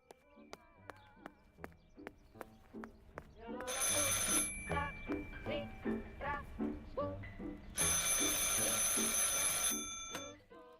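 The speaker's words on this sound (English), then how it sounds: "I should pick up the phone but remain silent." An old-fashioned telephone bell rings in the video game Martha is Dead, first as short periodic chimes, then as two long loud bursts of continuous ringing over a rhythmic underlying pattern, with no talk.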